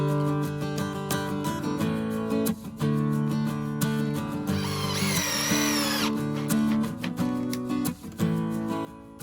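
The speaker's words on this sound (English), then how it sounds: "I had to bust out the trusty cordie drill" A cordless power drill whirs in repeated bursts while installing 2x4 framing for stone-wrapped columns, its motor pitch rising and falling as it starts and stops, with a higher screeching stretch midway.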